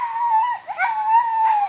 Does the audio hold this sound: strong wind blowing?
no